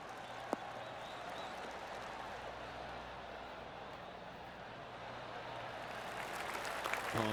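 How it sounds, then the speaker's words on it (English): A virtual golf gallery in PGA TOUR 2K23 offers a soft, steady patter of clapping that swells slightly near the end, heard fairly quietly as a background crowd. "Oh, golf clap."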